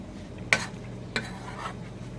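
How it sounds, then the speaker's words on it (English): A utensil stirs laap meat cooking in boiling water in a pot, giving two brief scraping strokes and then a softer one over a low, steady bubbling hiss. "You need to stir them because you're cooking with boiling water."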